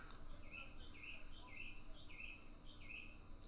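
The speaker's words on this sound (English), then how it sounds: "That's a loud bird." A loud bird in a tabletop fantasy game chirps in a steady series of about five short, bright calls, evenly spaced over a constant background hiss.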